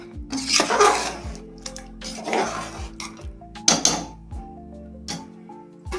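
Metal utensil scraping and clanking against a pot of chicken curry in short bursts, with rattling stirs and pauses between them, close by and moderately loud.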